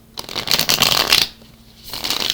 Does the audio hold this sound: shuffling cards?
yes